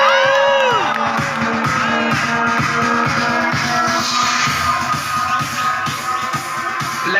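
A dense crowd at a campus bonfire party at Islamia University of Bahawalpur's Rahim Yar Khan campus cheers, shouts and whoops loudly and steadily, a close, continuous roar of many voices with no pauses.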